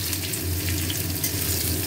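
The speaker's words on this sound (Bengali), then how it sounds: "আলুটা ভাজা করে নিই" Potatoes sizzle with spices in hot oil in a wok, giving a brief, loud, unbroken crackling hiss heard up close.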